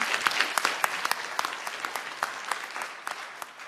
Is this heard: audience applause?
yes